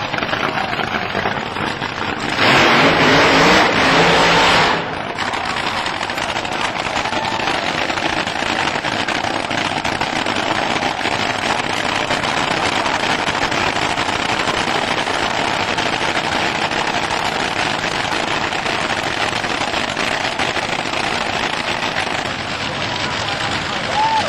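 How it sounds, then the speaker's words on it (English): A Top Fuel dragster runs loud and close, a dense, crackling roar that fills the whole stretch, with a sharper, louder burst near the start before settling into a sustained rough engine blare. "Top Fuel Dragsters, most powerful cars on the planet."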